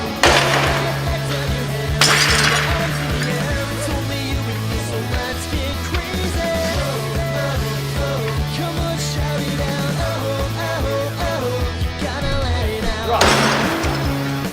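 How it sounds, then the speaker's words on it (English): A ceramic piggy bank smashes on the ground with coins scattering, bright shattering crashes near the start and again near the end over a steady rhythmic background beat, with jingling clinks throughout. "we're trying to freeze the action of the pig hitting the ground and seeing the pieces and the coins fly everywhere"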